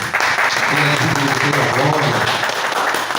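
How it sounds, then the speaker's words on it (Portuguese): A church congregation claps in a dense, continuous burst, with voices sounding under the applause throughout. "Vamos dar a Jesus um aplauso,"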